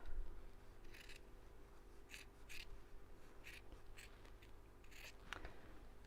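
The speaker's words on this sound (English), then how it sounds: "Just going to swap my scissors over." Scissors cutting fabric near stitches during sewing, a faint series of crisp snips in irregular bursts against a quiet room hum.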